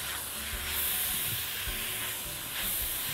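Onion and garlic fry in a pan with a steady sizzle and hiss, broken by a few scraping stirs, close and moderately loud.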